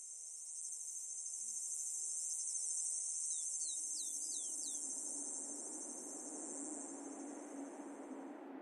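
Insects chirp in a steady, loud high-pitched drone among salt-grass clumps on a sandy coastal plain, with a few brief bird-like sweeps midway and a low rumble of wind or surf rising in the second half.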